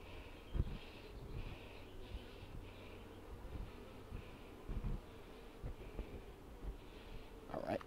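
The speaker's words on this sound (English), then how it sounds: "Come on, bees. Up out of the way." Honey bees hum during a beehive inspection in a faint, steady drone, with brief buzzing swells rising and falling over the hive. Occasional close thumps and handling noises from the work come through.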